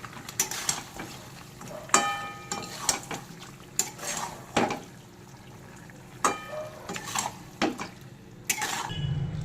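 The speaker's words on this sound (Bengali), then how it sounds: "এবার নেড়ে সব ভালো করে মিশিয়ে নেব" Chicken and spices stirred in a pot with a metal spoon, giving repeated scraping and clinking strokes in an irregular rhythm, close and moderately loud, with no talking.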